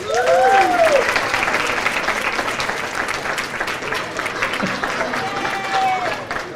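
Banquet guests at the 2017 MDUSBC adult bowling banquet clap steadily for the bowlers being recognized, a broad roomful of applause lasting over six seconds, with voices and a few cheers heard over the clapping.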